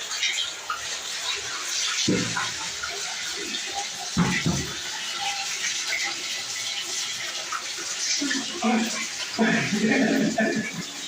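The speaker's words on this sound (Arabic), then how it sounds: "اغسل ايديك اغسل ايديك" Hands being washed under a running tap: a continuous spray of water with a few splashes and rubbing sounds, close by, while people talk over it throughout.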